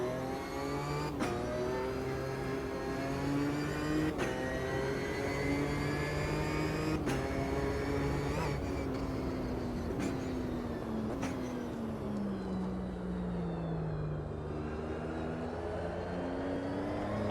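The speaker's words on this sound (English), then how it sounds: "I like the old gearbox whine." A GT4 race car in Automobilista 2 runs steadily at speed, its engine drone overlaid by a rising and falling gearbox whine, with brief dips at each gear change over about seventeen seconds.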